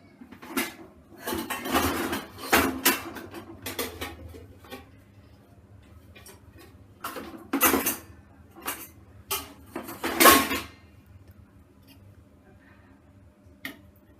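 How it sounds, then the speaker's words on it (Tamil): Boiled ginger tea being strained through a strainer in a kitchen, with close clinks and taps of metal against a cup or pan in irregular bursts, separated by quieter pauses. "இப்போ ஃபில்டர் பண்ணிக்கலாம்."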